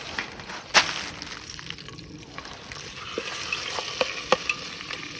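Food sizzles and crackles in a pan at a campsite, with scattered sharp clicks and scrapes as it is stirred; a steady hiss runs underneath.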